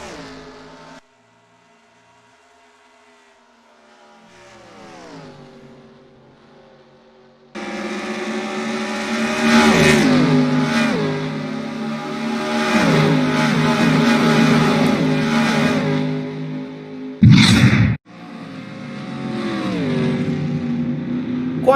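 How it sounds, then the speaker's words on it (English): Race cars, including Justin Marks and Bobby Labonte running side by side for second in a breakaway pack, roar past with rising and falling engine pitch. A louder burst follows partway through as the cars sweep by close. "is side by side with Bobby Labonte for second as they are both trying to chase down Justin Marks"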